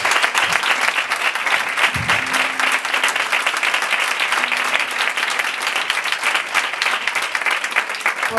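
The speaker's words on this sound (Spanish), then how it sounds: "Un aplauso para ti." Steady, full audience applause for a speaker at an evening proclamation event, continuous and even throughout with no break, dense clapping from a large crowd.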